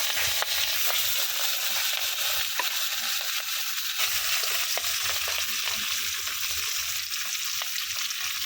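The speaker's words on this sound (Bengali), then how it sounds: "এই যে মাছগুলো আমি বাইজা নিব" Rohu fish pieces fry in hot mustard oil, giving a steady, dense sizzle with scattered crackles and pops throughout, close and continuous with no voices.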